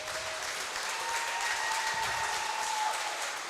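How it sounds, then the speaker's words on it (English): Steady applause fills a live wrestling event hall, a dense, even wash of clapping from the crowd that holds for several seconds with no talk over it. "Give yourselves a round of applause."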